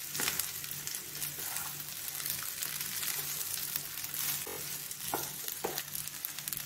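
Rice fries in a pan with a soft, steady sizzle and hiss, interrupted by a few light stirring scrapes toward the end, heard fairly quietly and without any talking.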